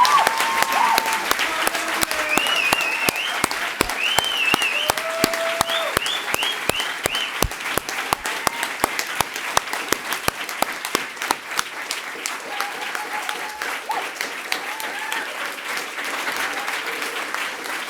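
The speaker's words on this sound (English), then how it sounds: "will you all join me in applauding our wonderful speakers today?" Audience at a philanthropy and economy conference plenary applauding its speakers, sustained clapping with sharp individual claps standing out, while faint whistles and cheers rise above the crowd.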